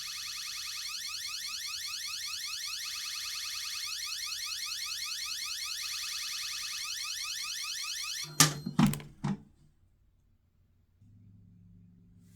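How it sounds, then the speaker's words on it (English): A Vaultek MR Series safe's alarm blares continuously for about eight seconds in a rapid, repeating sweeping pattern, then cuts off into a few loud clunks and knocks, followed by quiet and a low hum. "I'm going to make the alarm go off"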